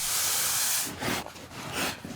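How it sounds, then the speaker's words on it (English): A steam iron hisses as it flattens the brim of a felt hat, a steady loud hiss at first that breaks into several shorter bursts and puffs of steam. "A steam iron flattens out the brim"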